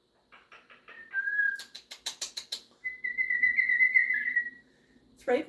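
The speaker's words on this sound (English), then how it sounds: "Pretty whistles." A pet bird whistles a string of short clear notes, then longer sustained whistled phrases, close and fairly loud, alone without talk, with a brief louder squawk at the end.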